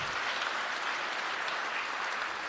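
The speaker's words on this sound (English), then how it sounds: "Yeah, round of applause." A crowd at a conference applauds steadily, a dense wash of clapping from many hands that holds at an even level throughout.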